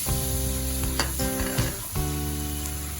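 Butter melting in a hot pan while being stirred, a steady close sizzle with light scraping strokes of the utensil, no talk.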